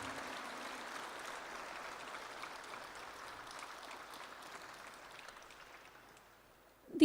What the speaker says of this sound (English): Can we have a louder round of applause for Our Lady from Ukraine?